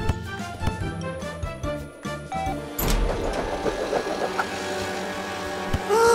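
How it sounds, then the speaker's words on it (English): Cartoon vehicle speeding with a new exhaust: a buzzing, revving engine with synthetic whooshes over a busy music and effects bed. "Tilly's faster than ever with her new exhaust."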